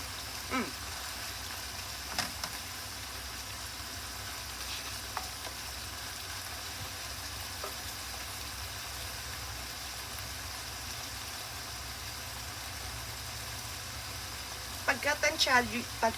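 Pork slices frying in a pan for Japanese shoga yaki make a faint, steady sizzle, with a few soft utensil clinks near the start and a brief cluster of stirring clatter near the end.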